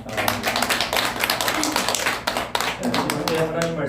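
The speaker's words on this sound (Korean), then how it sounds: "살아계신 주님께 우리 함께 영광의 박수 먼저 돌립시다." A church congregation claps together in a steady rhythm while a voice speaks over it, the clapping fairly close and mixed with the talk.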